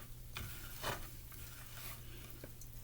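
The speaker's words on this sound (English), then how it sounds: "Gonna mix that together." A homemade seed bomb mixture made without clay is stirred in a container, giving soft, wet squishing and scraping strokes that come close but quiet.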